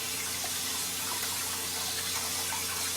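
Cold water runs steadily from a bathroom sink tap during a wet shave with a safety razor, a continuous close hiss and splash with no talking.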